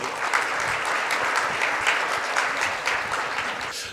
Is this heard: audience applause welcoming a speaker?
yes